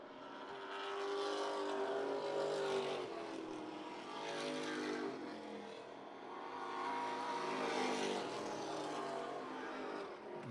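Race cars roaring around a track at a weekly racing event, engines swelling past in two loud passes with a brief lull between, heard alone without talk.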